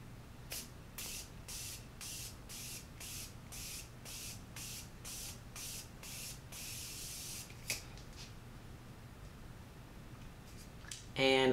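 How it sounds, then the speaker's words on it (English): Morphe Continuous Mist setting spray pumped in a long run of about a dozen quick, evenly spaced hissing bursts, close and fairly soft, ending with a brief louder rustle. "For setting spray, I'm going to use my Morphe Continuous Mist Setting Spray."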